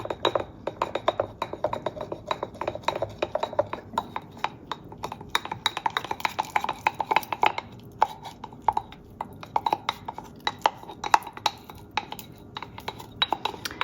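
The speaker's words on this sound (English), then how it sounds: "Now I'm going to give this a really good mix." A spurtle stirring sourdough starter with unbleached flour in a jar, making a steady run of light scraping taps and knocks against the glass, close and continuous for several seconds.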